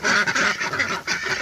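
Ducks inside a small backyard enclosure quack loudly and close by, a rapid run of overlapping nasal calls with brief pauses between bursts.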